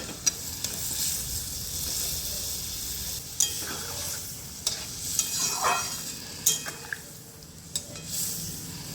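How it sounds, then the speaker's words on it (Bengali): Potato and pointed gourd korma stirred in a pan with spiced gravy, a soft steady sizzle under scattered scrapes and knocks of a spoon against the pan, close and fairly quiet. "ভালো করে নেড়ে নেব।"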